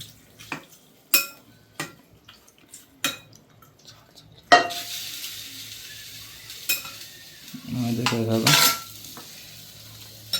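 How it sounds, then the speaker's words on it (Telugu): A series of sharp metal clinks and scrapes from a spoon against a pot of tomato dal, then a burst of sizzling as tempering is stirred in, close by with quiet pauses between. "పప్పు మొత్తం తాలింపు మొత్తం కలిసి ఇలా కలుపుకోవాలి"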